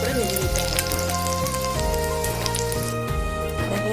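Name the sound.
frying snacks in hot oil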